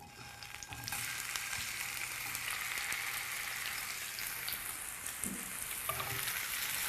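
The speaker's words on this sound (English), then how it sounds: "my pan's hot. I'm just gonna add a little bit of olive oil. And all I'm gonna do here is put in my Brussels sprouts" Brussels sprouts sizzle in olive oil in a hot pan, a steady, close frying hiss that holds throughout with small pops and a brief clatter near the end.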